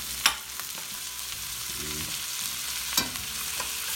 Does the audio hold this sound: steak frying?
yes